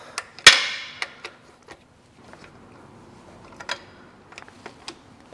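Bolts on a Chevrolet Cruze gearbox pan being tightened on a second pass, a sharp metallic clack followed by a series of light ticks and clicks from a tool, spaced irregularly in a quiet space.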